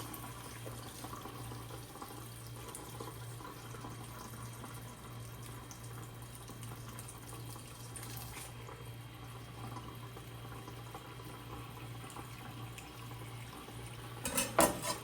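Cracked wheat for tabbouleh rinsed under a running tap in a kitchen sink, a steady close water stream with light clinks of dishes and a louder splash and clatter at the very end; no talking.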